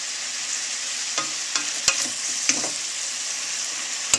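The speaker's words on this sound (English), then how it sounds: "we add the mushrooms. In they go, and we give them a good stir here and let them cook down a little bit" Mushrooms stirred in a hot pan for cream of mushroom soup: a steady sizzle with several sharp utensil scrapes and clicks against the pan, close and clear, no voices.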